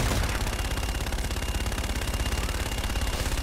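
Sustained rapid automatic gunfire from Call of Duty: Infinite Warfare, played on PS4 Pro, rattles continuously at an even pace, loud and close, with no pauses or talk over it.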